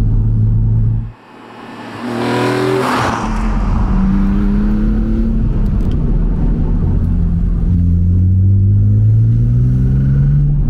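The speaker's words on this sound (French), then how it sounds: "Essayons de trouver un spot pour vous faire entendre cette voiture." A BMW Z4 M engine revs up after a brief dip, then pulls hard with a rising, resonant intake growl, loud and close.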